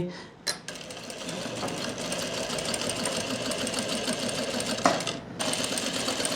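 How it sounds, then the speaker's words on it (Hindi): A sewing machine runs almost continuously while stitching a half-inch seam on palazzo pants, a close, steady mechanical whir with a quick start near the beginning and a brief catch toward the end. "तो इस पर भी मैं आधा इंच की सिलाई ही लगा रहा हूँ"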